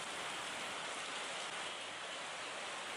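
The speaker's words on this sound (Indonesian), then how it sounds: "hujan mulai rutin mengguyur Kota Waringin Timur" Steady, dense rainfall hisses evenly across a wide band with no breaks, as the rainy season sets in over Kotawaringin Timur; no voices are heard.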